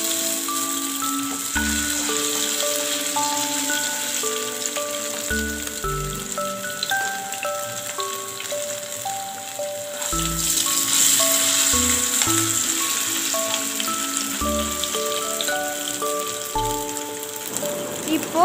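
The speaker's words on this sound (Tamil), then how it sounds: "காலிஃப்ளவரை எடுத்து கடாயில் போட்டு ஷாலோ ஃப்ரை பண்ண போகிறோம்" Cauliflower shallow-fries in oil in a kadai with a continuous, close crackling sizzle like light rain, running steadily under background music throughout.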